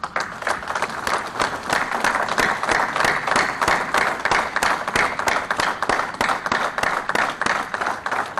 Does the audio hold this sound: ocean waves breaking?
no